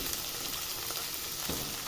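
Cut brinjal frying with onions in a pan, a brief soft steady sizzle with a light stir or scrape near the end, quiet and close, no voices.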